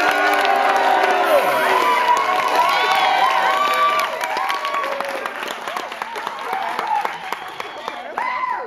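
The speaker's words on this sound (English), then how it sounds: "it's going to be by show of applause, by loud noises, whatever you can come up with for a loud noise" Improv show audience voting for the blue team with clapping, cheers and shouts; loud, lively crowd of whoops, yells and applause, slightly easing in the second half, with voices shouting throughout.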